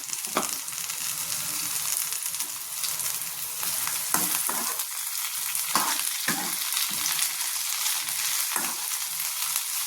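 Onions frying in a pan with mint leaves added while making masala mirchi bajji, a steady close sizzle broken by several sharp stirring scrapes and taps.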